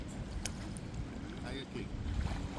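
A kayak paddled on a Norwegian lake beneath high cliffs, with soft splashes of the paddle and water lapping against the hull, set against faint wind rumble on the microphone.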